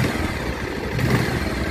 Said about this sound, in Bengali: ও বাইকটা আমাদের ইঞ্জিন স্টার্ট হয়ে গেছে আলহামদুলিল্লাহ।